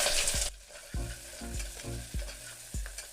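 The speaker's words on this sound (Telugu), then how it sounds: "ఇప్పుడు దీంట్లో కొత్తిమీర, పుదీనా వేసుకొని కలుపుకోవాలి." Chopped onions with coriander and mint stirred in a hot pan, a rhythmic series of spoon scrapes over a crackling sizzle that opens loud and then keeps a steady beat, with no talk.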